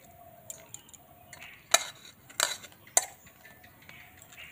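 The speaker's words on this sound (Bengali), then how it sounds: "বড় চামচ দিয়ে তুলতে অনেকটা করে উঠে যাচ্ছে।" A big spoon scrapes and clinks against ripe bael fruit pulp and its hard shell, giving three or four sharp, close knocks amid quieter scraping, with no talking.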